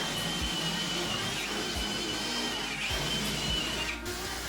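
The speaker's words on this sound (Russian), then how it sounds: "По углам просверливаются отверстия." Power drill boring holes into the corners of a kitchen countertop cutout, a steady continuous whirring grind close by with no talk.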